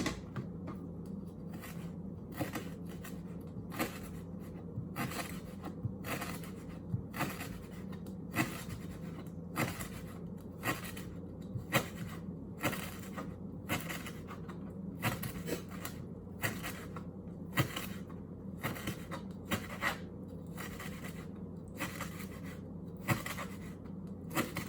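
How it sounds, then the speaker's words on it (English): Knife chopping lemongrass into small slices for a grilled shrimp marinade, a steady run of quick, close taps on a cutting board with no talk. "Chopping up lemongrass to add on to the marinating."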